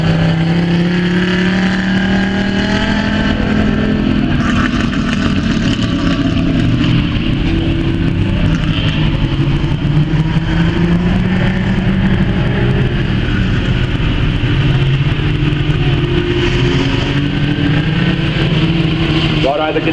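Production cars at a Kaikohe speedway restart, engines droning and revving together loudly and continuously throughout, with a race commentator talking over the top.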